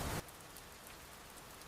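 Rain falls as a steady, soft hiss, faint and even throughout, after a brief louder burst at the start and with no talking.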